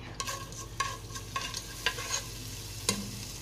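Whole spices such as cinnamon, cloves, cardamom, cumin and fennel frying in hot ghee for meat rice, a low steady sizzle broken by a handful of sharp scraping stirs of a spoon in the pan.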